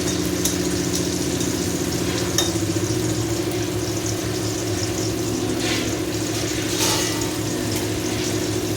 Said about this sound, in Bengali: হ্যাঁ, বেগুন ভাজা হয়ে গেল।